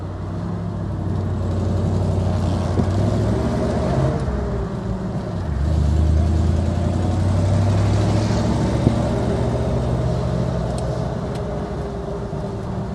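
1946 Mercury 8 convertible engine idling warm and healthy, a steady low rumble with slight rises in pitch, close and continuous with no talk.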